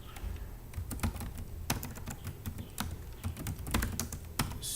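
Docker command being typed on a computer keyboard, quick irregular key clicks close up with short pauses, fairly quiet and with no voices.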